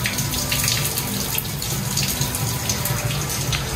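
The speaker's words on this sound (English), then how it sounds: "You can hear that water flowing during your massage." Water pours steadily into a spa bathtub at a resort in the Maldives, a close, continuous splashing flow with no pauses.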